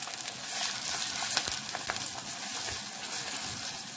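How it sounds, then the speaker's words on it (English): Chopped onions fry in oil over low heat in a pan for a yam porridge, giving a steady, close sizzle with soft crackles and faint stirring scrapes throughout, with no talking. "I allow this fry on low heat for 5 minutes to extract out a lot of sweetness."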